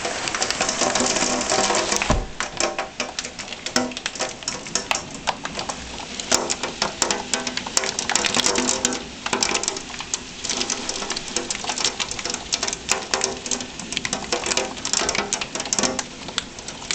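Heavy rain and hail pound during a thunderstorm, a dense, continuous clatter of hard impacts with irregular sharper hits throughout.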